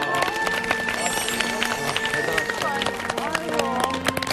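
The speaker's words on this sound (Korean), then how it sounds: "박수 한번" A television studio audience claps in a continuous dense patter, with music and voices sounding over the applause.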